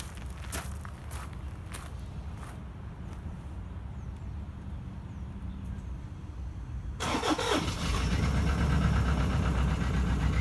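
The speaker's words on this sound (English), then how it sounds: "So we're going to go and start the vehicle's engine. The engine is cold" A few footsteps and small clicks, then a cold car engine with a cracked piston cranks and catches, settling into a steady, rough idle that continues to the end.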